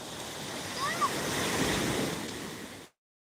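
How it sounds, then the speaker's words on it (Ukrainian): Large sea waves wash onto a beach in a steady broad roar of surf, with wind noise on the microphone and a faint voice nearby before the sound cuts off abruptly. "Дивись, які великі хвилі"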